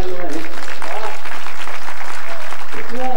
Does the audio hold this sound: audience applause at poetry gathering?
yes